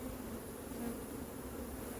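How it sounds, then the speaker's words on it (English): Honey bees drone in a steady, dense buzz throughout an open hive inspection, a continuous close swarm hum with no pauses. "these are all girl bees, the worker bees"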